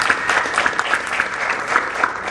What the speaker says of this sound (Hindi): उसके लिए एक बार ताली बजा दो यार